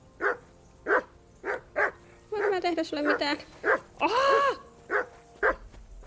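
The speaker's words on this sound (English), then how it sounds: "Where's that mutt of yours to stop barking?" A dog in the video game Kingdom Come: Deliverance II barks in a regular run of sharp, close yaps, with a voice speaking in the middle and a longer whining yelp near the end.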